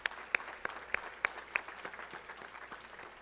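Scattered, sparse hand claps from an audience at a Women In Red 2023 event, a handful of separate sharp claps spaced irregularly over a quiet room rather than a full round of applause.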